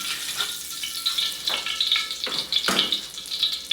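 Onion, garlic and tomato sautéing in hot oil for chayote: a steady bright sizzle with soft stirring scrapes and occasional louder crackles, close up with no talk.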